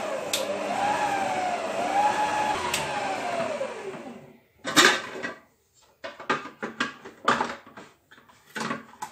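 An electric mixer whirs steadily as it beats sablé dough ingredients until creamy, its motor pitch wavering, then cuts off, followed by scattered scraping and knocking of bowl and utensils.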